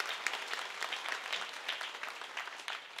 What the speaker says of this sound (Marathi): वादकासाठी टाळकऱ्यासाठी जोरदार टाळी वाजवा